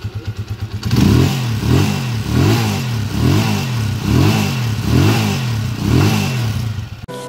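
A 200cc converted motorcycle engine idles with a loping beat, then revs in a series of about seven rhythmic surges, each rising and falling, loud and close, with no talking.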